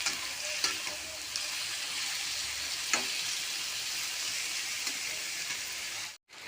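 Chicken pieces and onions fry together in a pan with a steady, dense sizzle. A few faint clinks of stirring come through along the way, and the sizzle drops out briefly near the end.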